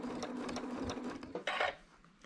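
A sewing machine stitching quilt sashing at a long stitch length, a faint close rapid mechanical chatter with a soft hum, ending in a brief brighter rustle of fabric.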